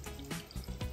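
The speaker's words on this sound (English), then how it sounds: "Two little drippers pouring water in there." Small drip emitters in a backyard hydroponic vegetable garden in Perth, Western Australia, pour water steadily in a continuous close trickle and splash, with no talking.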